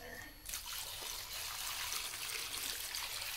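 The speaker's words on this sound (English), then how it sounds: "Decided I'm gonna throw a little more water in there." Water trickles and splashes as it is poured into a container during work on a 3.6 LFX upper intake manifold, a close, steady liquid rush after a brief quieter start.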